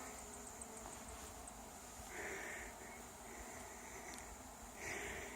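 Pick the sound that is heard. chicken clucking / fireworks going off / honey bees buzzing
honey bees buzzing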